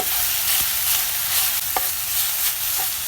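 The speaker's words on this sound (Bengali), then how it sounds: "ঢাকনা খুলে আমি সুন্দর করে নেড়ে নিচ্ছি" A utensil stirs jute leaf greens in a pan, uncovered after cooking with salt and turmeric, giving a steady sizzle with a few soft scrapes and knocks, close and continuous, no voices.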